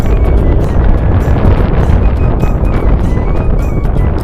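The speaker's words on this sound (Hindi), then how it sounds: "हवा चल रही है ठंडी ठंडी।" Cool wind gusts outdoors on a mountain road between Dwarahat and Chaukhutia in Uttarakhand, buffeting the microphone with loud, continuous rough rushing noise for the whole stretch.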